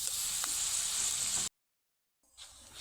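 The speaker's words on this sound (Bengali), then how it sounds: "বাদাম ভাজতে খুব বেশি সময় লাগে না, ডাল ভাজায় যতটা সময় লাগে বাদামটার মানে একদমই অল্প সময়ে ভাজা হয়ে যাবে।" Peanuts frying in hot oil for a homemade dal chanachur snack give a steady, close hiss of sizzling that cuts off abruptly, falls silent briefly, then resumes more softly.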